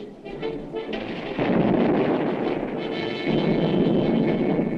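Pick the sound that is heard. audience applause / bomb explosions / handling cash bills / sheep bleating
bomb explosions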